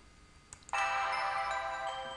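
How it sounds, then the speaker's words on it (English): A custom ringtone plays on a BlackBerry as it arrives, a couple of faint clicks followed by a loud, sustained tonal melody from the handset. "I just received the ringtone"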